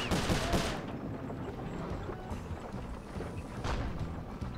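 Gunfire from the video game Sly Cooper: Thieves in Time, with rapid bursts of shots and crackling impacts, loudest at the start and again near the end over a continuous game-audio background.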